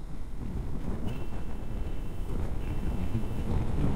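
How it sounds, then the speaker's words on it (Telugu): Strong wind blows across a mountain road in the Kinnaur region, producing a rough, continuous buffeting roar that fluctuates in strength, with no clear talk. "ఇంకా గాలి ఎక్కువ కొడుతుంది ఇడ."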